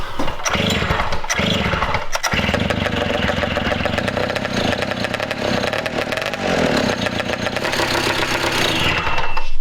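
A Rokon motorcycle engine fires and keeps running, a loud, close, continuous rough engine drone with a few uneven sputters near the start, then steady running throughout.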